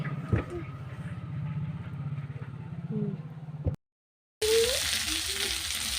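Cauliflower and potato fry in a pan with a soft, steady sizzle and stirring. After a brief silent gap, a louder burst of noise follows.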